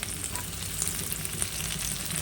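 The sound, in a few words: vegetables frying for veg fried rice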